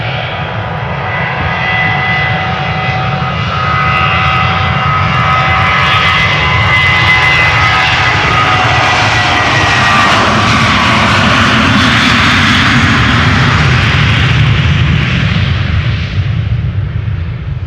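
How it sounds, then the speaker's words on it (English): A 22-year-old KLM Boeing 737-900 departing Amsterdam Schiphol for Oslo gives a loud, swelling jet engine roar with tonal whine, building and sweeping past before easing off, heard alone. "This is a 737-900 going to Oslo from KLM, flight 1143."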